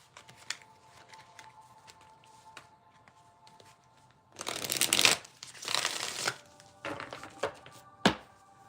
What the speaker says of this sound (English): Let me pull one card out of this oracle